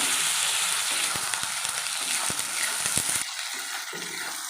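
Chopped tomatoes hit a pan of fried ginger paste and garlic for a yogurt chicken curry, giving a steady broadband sizzle with scattered crackles and spoon scrapes. The frying is close and continuous and quietens slightly near the end.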